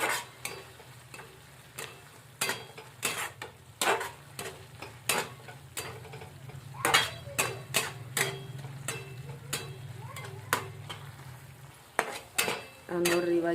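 Dried curry leaves frying in oil and stirred in a pan for tomato chutney: a faint steady sizzle under repeated sharp scrapes and clinks of a spoon against the pan, coming in an irregular rhythm.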